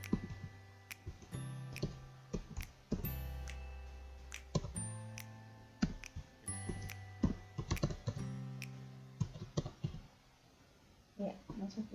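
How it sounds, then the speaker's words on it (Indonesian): Typing an email address on a computer keyboard: a quick series of sharp key clicks in uneven bursts, close and crisp, with low hum tones in the background and no talking over the keystrokes. "saya langsung mengetik alamat emailnya"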